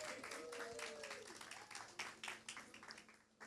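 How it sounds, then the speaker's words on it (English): An audience at a live talk event applauds as a guest is called to the stage, a dense patter of many hands clapping that carries on through the clip, with a presenter's voice over the start. "With a round of applause to the stage,"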